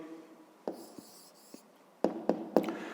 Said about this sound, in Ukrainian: Ну що ж, спробуємо записати відповідь.